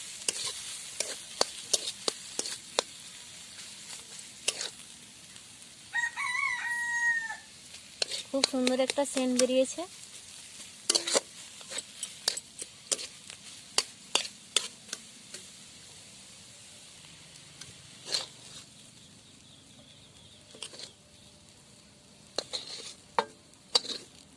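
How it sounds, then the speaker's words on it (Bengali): A spoon scrapes and taps as a filling for khasta singara is mixed in a pan, with scattered sharp clicks and soft stirring noises, near and moderately loud, plus a short burst of faint background music. "সব কিছু ভালো করে মিশিয়ে নেব"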